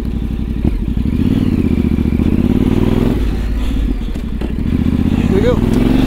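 A Yamaha Tenere 700 adventure motorcycle is ridden on a dirt single track, its engine chugging loud and close with rhythmic pulsing, plus clatter and thumps from the rough trail, with a rider talking over it.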